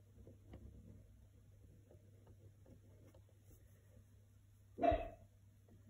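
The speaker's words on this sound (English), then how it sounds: "There's my puppy." Puppy barking: a single short, close bark near the end over a quiet, steady hum, with faint small clicks and rustles earlier.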